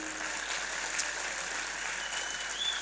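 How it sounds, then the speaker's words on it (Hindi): A live audience at a shayari poetry recital in Baroda claps loudly, a dense, steady wash of applause that lasts a few seconds with no voices over it. "एक बार अपने आप के लिए जोरदार तालियां बजा दें।"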